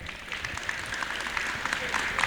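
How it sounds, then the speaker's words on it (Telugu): Scattered applause from an audience at a Toronto Telugu community event, a steady patter of claps held at moderate level for a couple of seconds. "మీరు అందరూ చప్పట్లు కొట్టాలండి"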